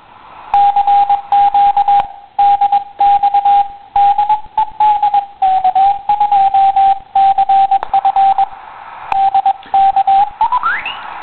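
Morse code in CW comes through a homebrew QRP radio as a strong, steady tone keyed in quick dots and dashes, loud and close over faint band hiss, with a brief upward tuning sweep at the end.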